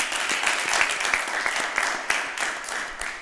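Audience of high school students applauding at a televised French quiz show, a dense steady wash of clapping throughout with no talk over it.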